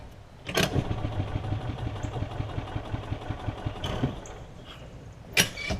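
A Yamaha golf cart's engine cranking on the starter, a rapid rhythmic mechanical churn running for a few seconds with one brief firing catch, bracketed by sharp clunks at start and end, close and fairly loud with no talk.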